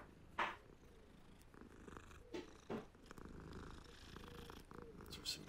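A cat being petted in Hogwarts Legacy purrs steadily and softly, a continuous low rumble underneath game ambience with a few brief louder accents, close and quiet.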